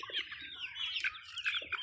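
Chickens, young black birds of an Andijan breed raised on a farm, cluck and chirp continuously at close range, a busy overlapping chatter of short calls with no talking.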